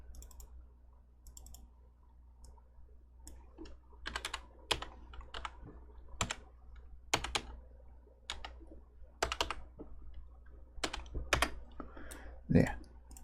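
Numbers typed on a computer keyboard during RPG game development, a quiet run of irregular key clicks in short bursts and pauses, close up, with no talk.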